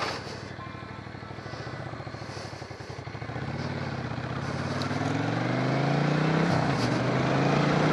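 A motorcycle engine idles with a steady low rumble, then revs and rises in pitch near the end, loud and close, with no talking.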